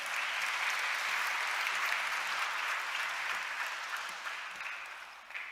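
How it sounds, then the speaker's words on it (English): Crowd at a tribute gathering applauding children who read tributes, a dense sustained roar of clapping that tapers slightly toward the end. "Another round of applause for them."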